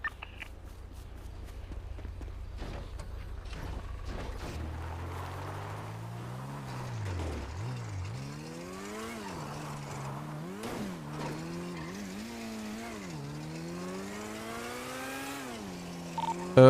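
Car engine in a driving video game revving up and down as gears shift, a steady mid-level whine that climbs and dips without voices.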